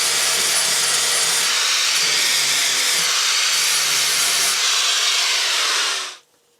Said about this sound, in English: So I'm going to continue welding this all along this edge until everything is filled up again.